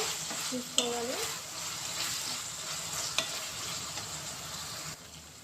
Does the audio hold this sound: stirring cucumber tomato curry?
yes